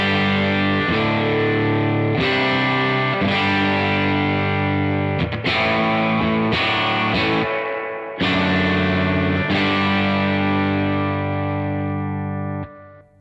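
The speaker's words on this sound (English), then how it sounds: "if I bring in the post circuit, that's going to be the reverb going into the boost, which is going to distort the reverb" Electric guitar chords through a Crazy Tube Circuits White Whale V2 reverb pedal, the reverb fed into its post boost so the wash distorts: loud sustained chords with several restrikes, ringing tails fading at the end.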